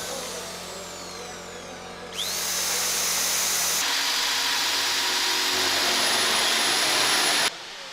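A loud power drill starts up with a rising whine after a mechanical hum, drilling holes at an Airbus student challenge, runs steadily at high pitch for several seconds, then cuts off abruptly.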